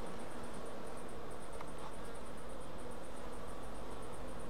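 Honeybees fan at the entrance of a young colony on a hot day, a faint, steady buzzing drone alongside a high pulsing insect chirp that repeats evenly throughout.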